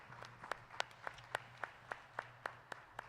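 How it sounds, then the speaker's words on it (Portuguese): A church congregation at a Brazilian evangelical service claps in a slow, even rhythm, about eleven distinct claps in three seconds, fairly faint and distant over a low hum, with no talking. "E eu quero que vocês recebam nosso profeta, pastor Geraldo, com uma salva de palmas ao Senhor."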